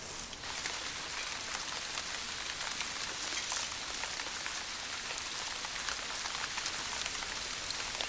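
Steady rain falls in a gorilla forest, a dense, even patter of drops on leaves and surfaces that runs the whole time without a break.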